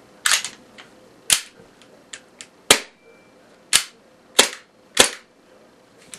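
A WE ISSC M22 airsoft gas pistol fires about seven sharp, snappy shots at uneven intervals, close and loud with quick decays, plus a few fainter mechanical clicks between them.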